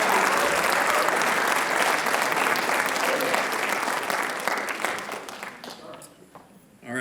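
Sustained audience applause at a school writers expo poetry reading fills the room loudly and steadily for about six seconds, then thins out and fades near the end.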